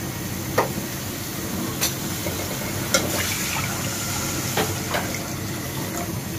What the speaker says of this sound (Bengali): এবার আমি এটা জল দিয়ে দিব।